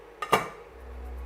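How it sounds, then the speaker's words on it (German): A metal lid is set onto a cooking pot of pumpkin-apple ginger soup: two quick clanks close together, the second louder, then a quiet room tone. "Deckel drauf"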